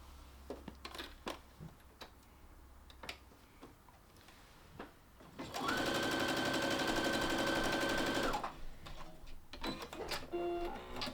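A sewing machine runs in one steady burst of about three seconds as it stitches a skirt seam with a half-inch allowance, loud and close, with quieter clicks and handling sounds before and after.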